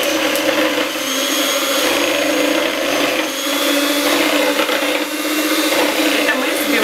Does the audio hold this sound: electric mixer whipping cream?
yes